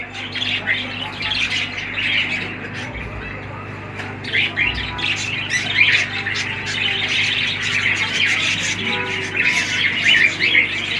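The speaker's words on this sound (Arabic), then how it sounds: "تشكيلة عصافير برضه في المحل" A mixed assortment of small caged birds chirps and squawks inside a pet shop, a constant busy chatter of overlapping bright calls over a low steady hum, with someone speaking faintly underneath.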